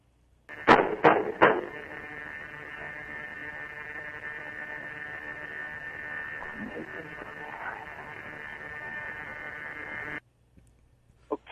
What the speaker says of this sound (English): And that knocks on the wall.